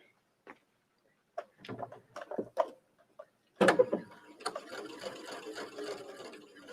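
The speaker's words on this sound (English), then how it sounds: "I'm just going to stitch slowly because this fabric is really fragile, even though we have the interfacing on there." A sewing machine stitches fragile fabric backed with interfacing at a slow pace, with a few soft isolated clicks and bursts before a short run of quiet, steady stitching.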